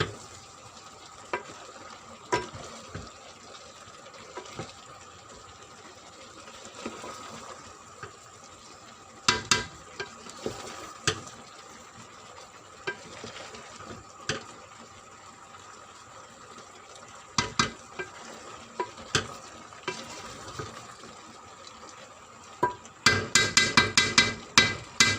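A spoon scrapes and stirs raw mango pieces cooking with sugar in a pot, the soft sizzling bubble running steadily while the spoon clacks against the pot at intervals, with a burst of rapid clattering at the end.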